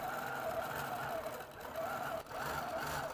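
A quilting machine sews a traveling stitch across a quilt in a frame, humming with a steady, rapid needle rhythm that keeps running throughout, close and continuous.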